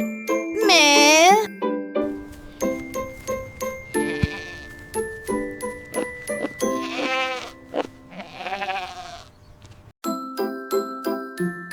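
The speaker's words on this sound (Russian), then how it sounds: "Козочка говорит ме." A goat bleats several times in wavering, quavering calls, set among bright chiming jingles and ding-dong tones of a cheerful children's animal-sounds tune, loud and near.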